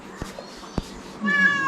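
A cat meows clearly and close by at a Haldi Kunku gathering, one drawn-out rising call after a couple of faint taps and clicks, with no speech over it.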